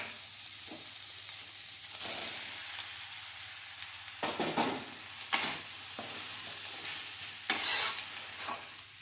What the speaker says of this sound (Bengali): সব শুদ্ধ ভালো করে কষিয়ে নিয়েছি